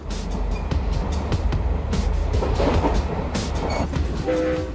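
A coal freight train on the Datong-Qinhuangdao line in China rumbles steadily past with a continuous low roar, clacking wheels on the rails, and a brief tone near the end.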